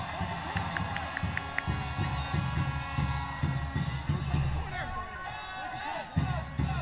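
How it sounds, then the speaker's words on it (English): A football stadium crowd cheering on the home team during an FC Tulsa versus Sacramento Republic FC match, a continuous roar of voices with rising shouts and chants, distant and broad, under a commentator's voice. "Crowd really trying to get behind their team, behind Danny Vitiello's goal here"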